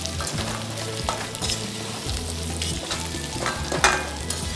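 Large papaya pieces frying in oil in a pan for kurma, a dense crackling sizzle with bursts of stirring and spatula scrapes, close and steady with no voices.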